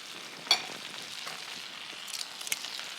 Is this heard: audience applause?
no